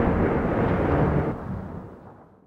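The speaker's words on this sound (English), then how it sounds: "there is always rumbling and exploding at the edge of our consciousness, the intermittent violent eruptions of volcanoes" A deep, heavy rumbling roar like a volcanic eruption, loud and dense at first, then fading away over the last second.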